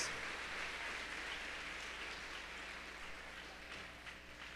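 A church congregation claps during a Spanish-language sermon, a dense, even patter of many hands that slowly fades, heard alone without speech.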